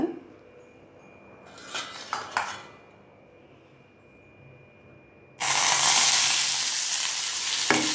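Ingredients dropped into hot oil in a kitchen pan, with clinking of a utensil and metal first, then a sudden loud, steady sizzle that continues to the end.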